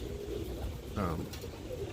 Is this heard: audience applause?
no